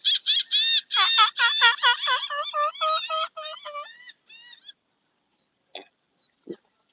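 Geese honking outdoors on a lakeside walk, a rapid series of loud nasal calls that thins into a few scattered, fainter honks before fading to quiet.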